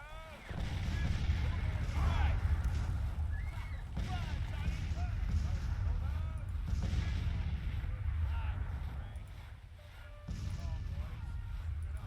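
Artillery firing on a battlefield in the strategy game Grand Tactician, repeated dull booms at a distance over a constant rumble, with a voice speaking over the sound.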